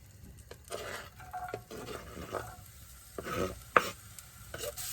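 Rice frying in butter and oil in a pan in a camper kitchen, with a low steady sizzle broken up by scraping stir strokes and one sharp utensil knock, close and moderately quiet.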